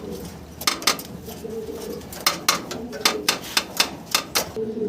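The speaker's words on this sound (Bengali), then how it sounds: "একজোড়া রোমান গাল কবুতর" Roman pigeons coo in low throaty bursts, mixed with sharp repeated clicks and taps from a cage or coop nearby.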